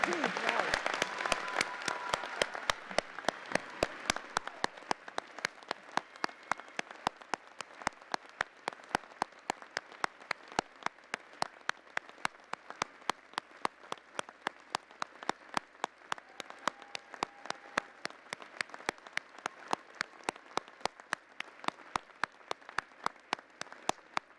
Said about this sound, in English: give a huge round of applause to all the people who supported you